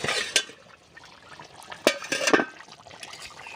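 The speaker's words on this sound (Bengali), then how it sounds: "আলু ঝোল তো ফুটতে শুরু হয়ে গেছে" Potato and mutton curry broth bubbles in a pot, with soft gurgling and a few sharper pops and splashes over a quiet background.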